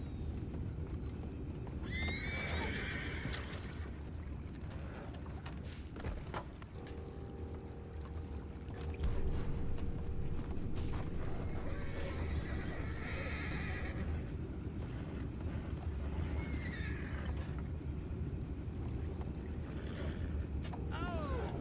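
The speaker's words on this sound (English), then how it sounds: "You mind the horses?" Horses in the video game Red Dead Redemption 2 whinny several times at intervals over a constant low rumble and scattered hoof clops, the neighs rising in shrill bursts at moderate distance.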